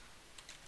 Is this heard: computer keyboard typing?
yes